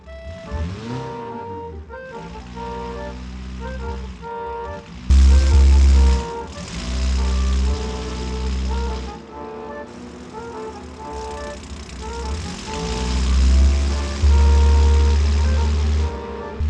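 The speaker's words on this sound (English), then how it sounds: "Let's fire up the raging 25 horsepower and leave our friendly neighborhood" A small 25-horsepower car engine in the car-building game Automation cranks, fires up and drives off, with deep rising and falling engine tones and surging revs throughout, fairly loud and close. A voice talks over parts of it.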